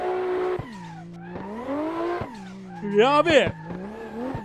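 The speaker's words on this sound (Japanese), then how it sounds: "じゃあちょっとね軽くドリフトしていこう" A car drifts in the Assetto Corsa racing game, its engine note rising and falling through repeated slides, with a loud burst of tire squeal partway through; a voice exclaims briefly over the engine.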